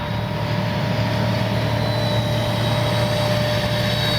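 An FMS Ranger 1220mm RC trainer airplane runs at full throttle, its electric motor and propeller giving a steady, even whine with a low hum beneath, constant and moderately loud for a few seconds.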